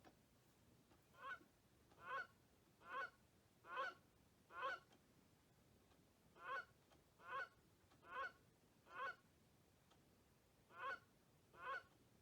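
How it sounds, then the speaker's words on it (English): Eleven honking calls of a Canada goose, played by a National Audubon Society quartz bird clock striking the hour. They come in two groups of five and a closing pair, clear and evenly spaced over faint background hiss. "Canada goose."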